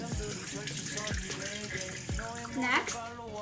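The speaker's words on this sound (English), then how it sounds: "First, wash the sweet potatoes under running water" Sweet potatoes washed under a running kitchen tap, a steady splashing water stream with rhythmic rubbing and handling sounds, close and fairly quiet.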